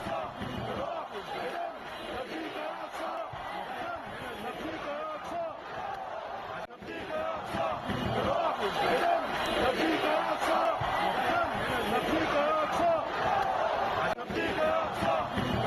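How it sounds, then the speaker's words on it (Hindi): Thousands of protesters fill the streets of Cairo in support of Gaza, a dense, continuous roar of chanting and shouting voices that swells louder partway through, with a news voice talking over it. "काहिरा की सड़कों पर हजारों लोग जुटे। सड़कों पर भीड़ ने गाजा के समर्थन में किया प्रदर्शन।"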